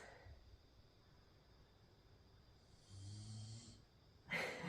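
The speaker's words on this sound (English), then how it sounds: "So I can hear Aria snoring." A dog's quiet, low snoring breaths from nearby, with a louder rumbling snore partway through and a sharp breathy sound at the end.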